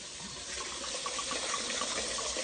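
Water is poured into a Hennessy-and-water cooking mixture, a soft, steady splashing trickle heard fairly close and fairly quiet for a couple of seconds with no talk.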